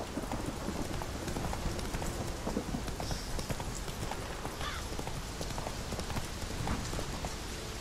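Geralt's horse Roach from The Witcher 3 trots along with steady rhythmic clip-clop hoofbeats, accompanied by constant rain-like ambient noise, close and moderately loud, with no talking.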